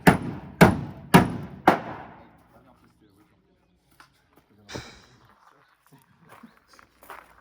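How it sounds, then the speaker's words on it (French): Four loud, sharp hammer blows in steady rhythm on the fender of a Peugeot 604 donor car being stripped, each ringing briefly, followed by quieter knocks and faint handling noises. "Donc toujours au marteau en fait."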